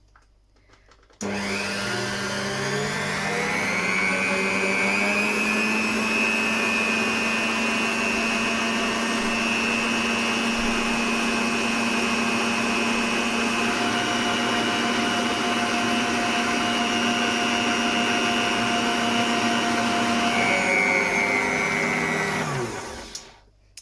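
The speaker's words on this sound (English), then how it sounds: "we are going to whisk this until the mixture in here is nice and frothy and white" An electric whisk beats egg whites with a pinch of salt for meringue nests, a loud, steady whirring drone that holds unbroken for about twenty seconds before cutting off, with no voices.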